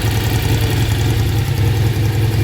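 A motorcycle engine with freshly cleaned carburetors idles steadily and close by, a low, even rumble with a slight knocking pulse and no talk.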